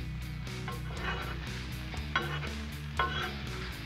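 Bacon, sausage and onions sizzle on a Blackstone griddle, a steady close frying crackle with a constant hum underneath and a couple of sharp scrape or clink accents.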